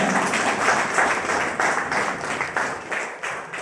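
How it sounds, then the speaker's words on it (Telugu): A crowd applauds steadily for several seconds. The clapping is dense and continuous, with slight swells in loudness and no clear speech over it. "సాకు ఒకసారి గ్రేట్ రౌండ్ ఆఫ్ అప్లాజ్"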